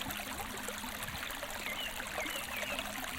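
A river current flows steadily through a garden, a soft continuous trickling and babbling of water heard faintly and evenly with no voices.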